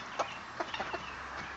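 Quail in a wire cage give a few faint, short chirps and clucks scattered over a quiet background hum, close but soft, with no talking.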